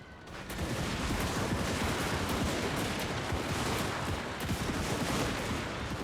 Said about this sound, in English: The Imperial gunnery is opening up.